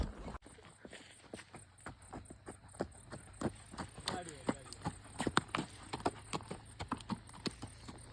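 A horse named Radhe walking with steady clip-clopping hooves that grow quicker and louder as it moves, with people talking over the hoofbeats.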